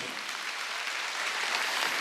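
A church congregation claps during a sermon, a soft, continuous hiss of many hands blending into an even wash at a distance.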